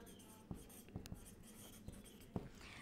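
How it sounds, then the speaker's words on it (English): During a maths lesson on bar graphs, a marker or chalk scratches on a board, with faint, irregular taps and strokes at close range in a quiet room. "So we write here subject."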